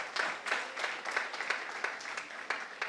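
Church congregation applauding, a steady, moderately distant patter of many hands clapping with rhythmic accents, no talk over it.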